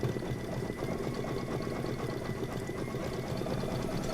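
An embroidery machine stitches a quilt design with a rapid, continuous mechanical whir and fast rhythmic needle ticking, steady and close with no talking.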